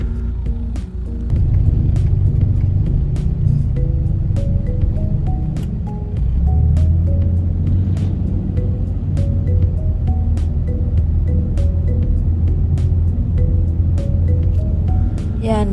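Steady low rumble of road traffic heard from inside a vehicle, with engine drone and periodic clicks, continuous and fairly loud.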